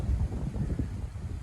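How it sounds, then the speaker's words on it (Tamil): Wind gusting outdoors on a sunny day, a continuous low buffeting rumble across the microphone with no voices. "காற்று வீசிக்கொண்டிருக்கு."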